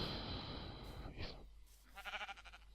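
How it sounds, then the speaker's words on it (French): Sheep bleating in the Minecraft game world, a few short wavering bleats coming after a stretch of noisy game sound, fairly clear and close. "Oh! Des moutons."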